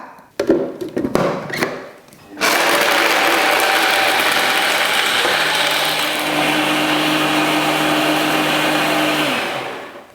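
An electric blender whirs through ice for an iced mocha frappe, opening with a few rough grinding bursts before settling into a loud, steady high-speed roar that holds for several seconds and winds down at the end.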